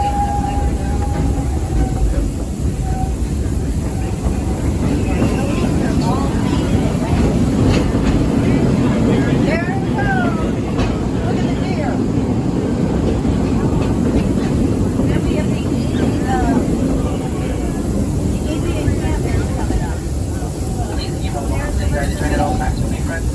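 The Walt Disney World Railroad steam train at Magic Kingdom rumbles along continuously, a steady low roll with rattling and faint clacks, brief whistle-like tones and a narrator's voice over it.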